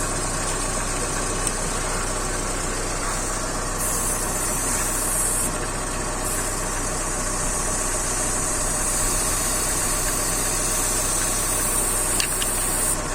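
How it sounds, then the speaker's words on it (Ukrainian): A 3-in-1 electric car jack's built-in compressor runs steadily while inflating a car tyre, giving a continuous motor drone with a buzzing hum and a constant, fairly loud level throughout, with no talk. "Вірю в те, що він накачає його знову, ну повністю не буду. Так, трохи, щоб продемонструвати вам, як працює сам компресор."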